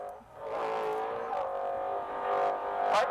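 An off-road race truck at the Baja 1000 runs its engine with a sustained mid-distance drone, rising and falling with throttle blips and revs.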